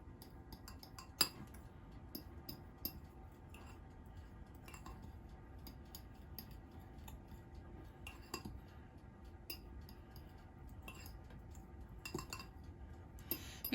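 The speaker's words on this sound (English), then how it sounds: "So you have to whisk it all together, make sure all the clumps are out and everything is incorporated." Fork whisking keto cheddar biscuit batter in a bowl, giving light, irregular metallic clinks and taps against a low background hum, with no talking.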